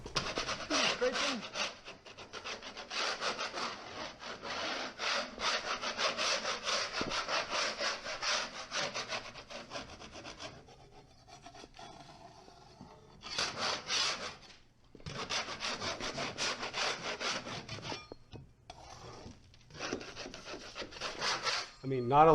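Scraping dried skim coat off a painted wall, with rhythmic rasping strokes in quick repeated runs and a few short pauses, close and fairly quiet.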